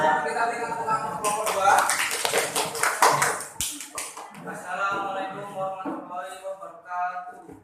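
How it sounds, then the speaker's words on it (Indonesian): Classroom applause for a student group after a presentation: a few seconds of scattered, uneven hand clapping that builds and fades, with children's voices chattering around it. "Kita berikan tepuk tangan untuk kelompok 2."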